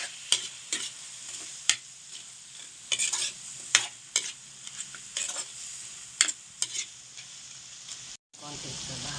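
Crab (talangka) and chopped santol are stirred in a pan as they cook, giving a steady sizzle with repeated sharp utensil scrapes and clacks. A voice speaks over the frying.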